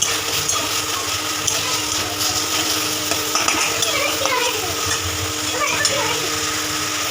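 Spice paste for a Bengali chicken curry sautéed in a pan, a steady sizzle with scraping and stirring clinks of a utensil against metal throughout, close and fairly loud.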